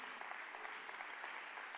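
Audience applause at a conservative summit, a steady dense patter of many hands clapping at moderate distance, sustained evenly throughout without any voices over it.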